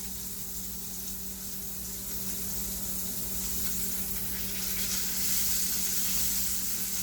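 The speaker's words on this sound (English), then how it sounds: "the London broil has been searing now for a couple of minutes and is ready to flip" London broil, a lean beef cut, searing in a cast iron skillet, with a constant close sizzle and spitting crackle over a low steady hum, swelling slightly louder toward the end.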